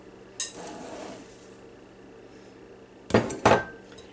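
A spoon stirring shredded coconut and other holiday salad ingredients in a bowl, giving a sharp clink at the start and a louder cluster of scraping knocks near the end, with quieter rustling between.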